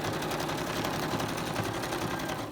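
A sewing machine runs steadily, stitching a decorated folder, its rapid, even needle chatter buzzing continuously and close by without pause.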